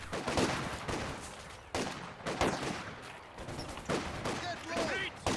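Continuous gunfire and explosions in a Company of Heroes 2 battle, dense rattling bursts and booms, with a commentator talking over it.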